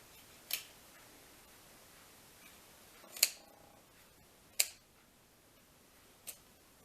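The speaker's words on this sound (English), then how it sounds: "I use my kitchen shears and you just cut the tips" Kitchen shears snipping the tips off artichoke leaves, four crisp separate clicks spaced a second or more apart, close but soft against a quiet background.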